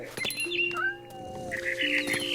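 A cat meows in the video game What Remains of Edith Finch, with a few rising and falling mews over steady background game ambience and no talking.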